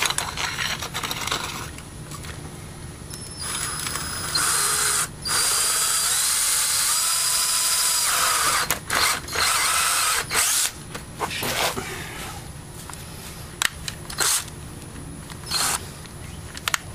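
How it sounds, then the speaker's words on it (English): A power drill with a long bit whirs steadily and close, boring a hole through PVC pipe in long bursts with brief stops, starts and rattling clicks between runs. "I need to drill a hole in the PVC with this long bit."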